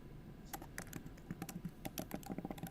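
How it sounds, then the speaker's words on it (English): Rapid clicking of a computer keyboard being typed on, in bursts of irregular keystrokes, close and fairly quiet, with no talk. "my typing is loud"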